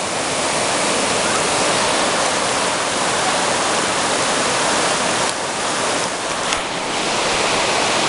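A steady, full rush of river water flowing beside a hiking trail to Naramata Creek Falls, a dense and unbroken roar that stays loud and even throughout, with no voices.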